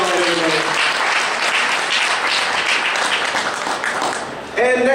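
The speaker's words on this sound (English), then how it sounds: "One more big round of applause for Princess Dawn, everybody" A costume contest audience at Kraken Con 2014 breaks into loud, sustained applause that fills the room, with a voice speaking briefly near the end.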